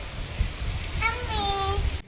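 Unseasonal rain falls as a steady, soft hiss close by, with a brief voice rising over it midway.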